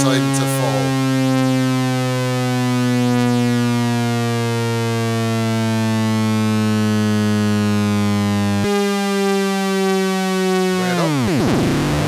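A Micromac synthesizer sounds a loud sustained harmonic tone, rich with stacked overtones, holding for most of its length before an abrupt shift and a sweeping fall as the lower switch takes effect.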